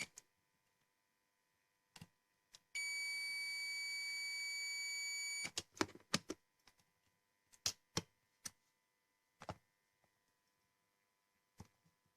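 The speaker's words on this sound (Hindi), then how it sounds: "जब दे रहा है तब मैं देख रहा हूँ मेरे को बीप मिल रही है कि नहीं।" A digital multimeter gives a steady continuous continuity beep of about three seconds while testing a coil, close and clear in a quiet room, followed by scattered clicks and taps from handling the probes.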